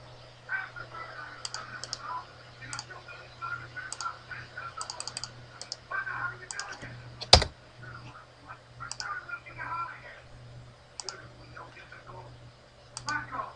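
Soft keyboard typing and mouse clicks tap out in quick irregular bursts on a computer, faint and close, with a low hum underneath and one sharp louder click midway.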